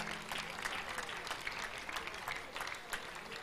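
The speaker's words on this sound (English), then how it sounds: "Clap for Jesus" A crowd at a prayer gathering in Abuja claps in praise, dense rapid applause at moderate distance, lively and continuous.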